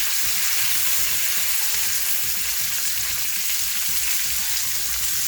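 A cauliflower steak fries in a pan, with a loud, dense, continuous sizzle that holds steady throughout and no talking over it.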